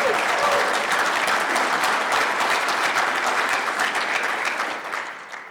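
A crowd at a scouting council centennial gala breaks into loud, dense applause with scattered cheers, sustained for several seconds before tapering off at the end.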